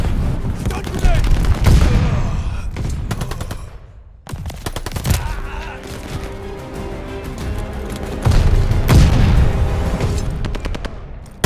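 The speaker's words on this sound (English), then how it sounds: "Stun grenade!" Explosions and rapid automatic gunfire in a Call of Duty Vanguard multiplayer match, with a stun grenade blast amid loud, dense bursts of shooting and booms that continue for the whole stretch, dipping briefly before resuming.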